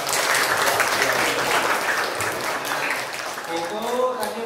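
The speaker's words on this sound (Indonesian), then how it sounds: "Oke, tepuk tangan untuk Mbak." A classroom of students claps for a classmate, a steady close patter of many hands that fades near the end as a voice begins speaking over it.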